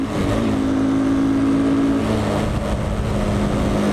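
A small 200 cc quad bike engine drones steadily while riding, a loud, continuous buzzing hum with a slight shift in pitch partway through and no talking.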